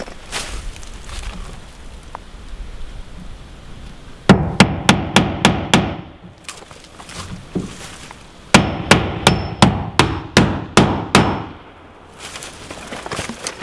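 Nails are driven into wooden window trim on a tiny house in two quick bursts of sharp hammer blows, about five to seven strikes each, close and loud.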